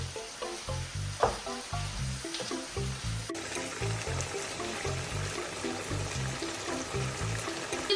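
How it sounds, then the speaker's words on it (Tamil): Vegetables and onion frying in hot oil for a Tamil-style fish curry, with a steady close sizzle and crackle, stirring clatter, and a louder denser hiss after a few seconds, with no talking. "இந்த ஆயில்ல வந்து இந்த வெஜிடபிளை மிக்ஸ் பண்ணி கொள்றேன்"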